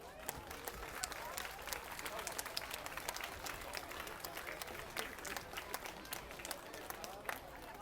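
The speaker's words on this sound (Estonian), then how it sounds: "Aplaus!" Crowd applause and clapping at the Robotex 2013 folkrace robot competition finals, a dense, sustained wash of hands clapping through the whole stretch, with some voices mixed in the hall.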